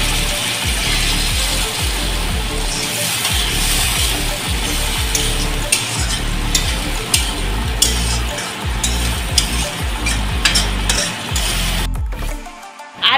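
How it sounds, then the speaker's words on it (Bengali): Spiced potato and pointed gourd base for a thin foli fish curry churning loudly in a pan with water added, a dense steady sizzle broken by repeated scraping clicks of stirring, ending in a brief drop near the close. "মশলা কষানোর জন্য জল দিয়ে দিচ্ছি।"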